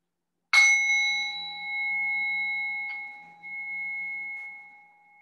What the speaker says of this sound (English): just until you hear the second sound of the bell